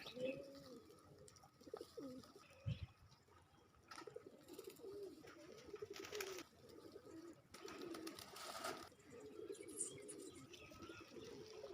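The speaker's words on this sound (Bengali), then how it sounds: "কবুতরগুলা দেখতে আপনাদের কাছে কীরকম লাগতেছে" Pigeons coo softly and repeatedly in low, rolling phrases, with a few bursts of broadband rustling and a brief knock, all faint and close with no one talking.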